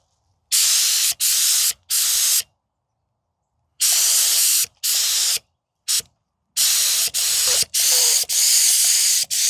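Spray gun applying Raptor liner onto a jon boat, heard as loud bursts of hissing spray, about nine separate pulls of one to two seconds each, broken by short silent pauses, close by with no talk.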